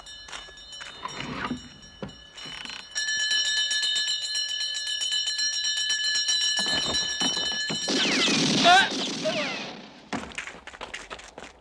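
A mechanical alarm clock bell rings steadily for several seconds in a room, loud and continuous, with bumps and voices before and after, ending in a burst of clattering noise.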